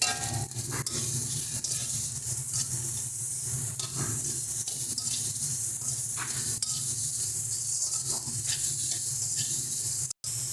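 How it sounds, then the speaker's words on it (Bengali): Ground cumin, coriander and salt fry with eggplant in a pan for a spicy rohu fish head curry with tomato, giving a loud, steady sizzle and hiss with occasional stirring scrapes throughout, close up and with no talking. "দেখো মশলাটা ভালো মতো ভাজা হয়ে গেছে"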